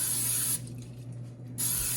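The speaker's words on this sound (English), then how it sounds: "we take a little bit of spray. You could use oil too" Cooking spray hissing onto chopped Tromboncino squash in a bowl before air frying, heard as close, steady spraying bursts at the start and end with a quieter gap between.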